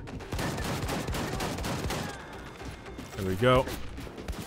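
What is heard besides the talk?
gunfire in the video game Wolfenstein 2: The New Colossus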